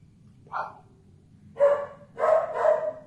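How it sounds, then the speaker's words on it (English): A dog barks four times: one short bark, a pause, then three sharper barks in quick succession, close by against a low background hum. "He's barking in response to me talking."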